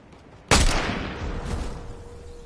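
One sharp, loud sniper rifle report in a Fortnite squads match, a sudden crack followed by a long rolling echo that fades over about two seconds, with no voices.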